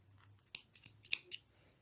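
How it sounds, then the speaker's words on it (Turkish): Small scissors snip thread during needle lace work, giving about five quick, crisp clicks in close succession, near and alone in a quiet room. "Sonra aralarını kesiyorum."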